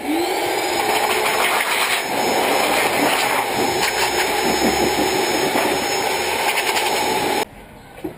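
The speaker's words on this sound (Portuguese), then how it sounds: "Meu aspirador de pó tem a função assoprar." A household vacuum cleaner running in blower mode, drying water off a Yamaha FZ6 Fazer 600 motorcycle and out of its radiator, gives a loud, steady, high-pitched motor whine with rushing air that cuts off abruptly near the end.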